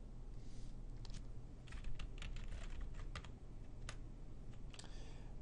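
Computer keyboard keys are tapped in irregular quick bursts while entering a username and password, the clicks close but quiet, with short pauses between runs of keystrokes.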